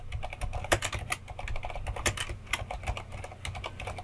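Steady typing on a computer keyboard while entering text in image-editing software, close and fairly soft, with rapid irregular clicks and a few louder key strikes, no voices.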